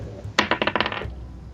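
Dice roll quickly across a hard surface in a short burst of bright rattling clicks, about half a second long, close and alone.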